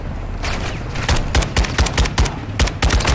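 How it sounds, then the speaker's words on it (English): Rapid bursts of automatic gunfire from a Call of Duty: Modern Warfare mission, loud and close, with sharp shots repeating in quick clusters over a busy background of game combat noise. "Quit shooting at me."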